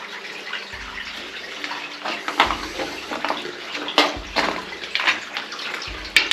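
Water rushes and splashes steadily through a flooded underground tunnel nearby, a continuous flowing wash with scattered louder splashes and trickles.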